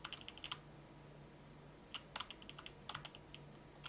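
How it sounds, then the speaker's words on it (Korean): Computer keyboard arrow and Enter keys pressed in scattered short bursts of crisp clicks, close and fairly quiet over a faint steady hum, while navigating the CPU settings of a Gigabyte B760M AORUS ELITE X AX motherboard BIOS. "키보드 방향키 아래쪽을 눌러 어드밴스드 CPU 세팅에서 엔터를 눌러주세요"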